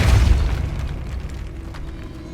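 A Depulso spell cast in Hogwarts Legacy inside a decayed catacomb lands as a single deep boom, loud at first and then rumbling off into a fading low tail.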